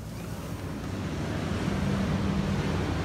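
Ocean surf on the Washington coast heard from a beach balcony, a continuous low roar of breaking waves mixed with wind buffeting, steady and gradually swelling, with no talk.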